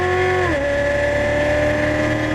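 A loud exotic race car engine drops in pitch at the upshift, then holds a steady high drone as it pulls hard under acceleration, close and alone.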